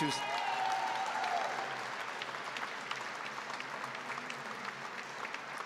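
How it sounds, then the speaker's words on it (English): Audience applause at the 2015 Caring Force Rally, a dense, even wash of clapping from a large room that fades slightly after the first seconds, with a voice briefly audible at the start. "So let's have another round of applause for Jen."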